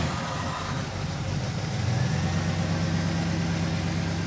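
A 1967 Oldsmobile 442 V8 engine idles steadily with a low, even rumble and a smooth exhaust note, close by, no talking.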